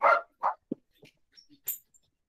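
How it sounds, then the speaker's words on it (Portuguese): Dogs bark outside on a balcony, with a few sharp close barks followed by softer yips and short whimpering sounds and quiet gaps between them. "Elas vão ainda latir ali fora mais um tempinho."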